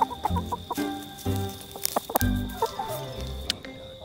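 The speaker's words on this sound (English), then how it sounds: "Think about that while you watch these hens foraging." Hens foraging on the ground, a steady run of soft, close clucks and short calls, with scattered louder squawks and some background hum.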